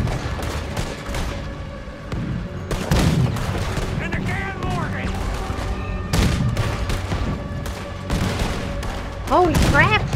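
A ship's cannon fires at a boat in the Western video game Red Dead Redemption 2, several heavy booms and gunfire bursts mixed with shouting voices and game music.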